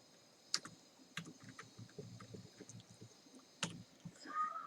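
Keys clicking on a computer keyboard as Python code is typed, sparse irregular keystrokes close and fairly quiet, with a few louder taps.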